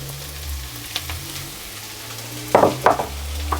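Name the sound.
pine nuts, olives, capers and tomatoes added to a frying pan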